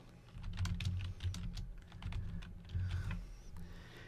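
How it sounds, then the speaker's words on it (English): Someone types a text message on a computer keyboard in a quiet room. The keys give rapid, close clicks in irregular bursts with short pauses between them. "Then type your message down here at the bottom."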